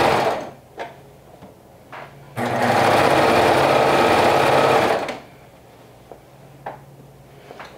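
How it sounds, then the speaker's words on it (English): A sewing machine top-stitches overalls in a single steady, fairly loud run of about three seconds, framed by near-quiet stretches with a few faint handling clicks. "So definitely top stitching it."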